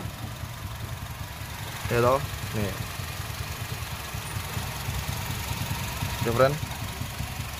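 A 2007 Honda CR-V with a 2.0-litre engine idles with a steady low hum under the open hood, while someone speaks briefly over it.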